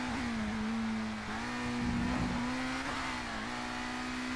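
Racing car engines in the ToCA Race Driver video game drone steadily and loudly at close range, a buzzing tone that wavers slightly as the cars run on, with no talk over them.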